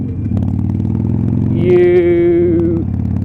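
A Harley Sportster fitted with Bassani Firepower slip-on exhausts idles with a loud, steady, mechanical low rumble, then a brief higher whine rises over it before fading back to idle.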